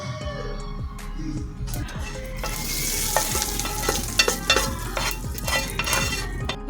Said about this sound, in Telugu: జస్ట్ గార్నిష్ కోసమే నేను తాలింపు అన్నది వేస్తున్నానండి కొంచెం ఎండుమిరపకాయ కరివేపాకు జీలకర్ర మినపప్పు